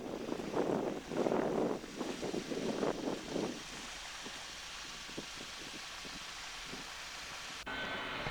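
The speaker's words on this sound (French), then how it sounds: "il ventait quand même un peu trop." Gusty wind buffets the microphone beside the sea in a bay in the Maritimes, strong rushing bursts at first that ease into a steady, softer roar with faint knocks.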